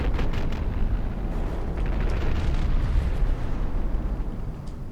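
Low-velocity cram cannon shells bursting in a battleship game, a dense rumbling series of booms and blasts that roll on continuously at a loud level, with no talk over them.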